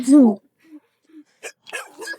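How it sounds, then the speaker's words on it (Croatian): One loud, close dog bark opens during a bicycle ride, followed by faint short sounds and then a person speaking nearby. "Nemoj, kuće, budi dobar pas."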